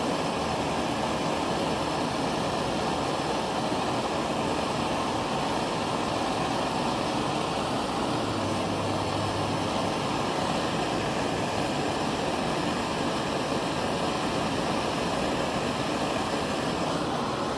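A gas torch flame roars steadily while heating a shrink fit tool holder, a loud, continuous broadband hiss that holds constant from start to finish.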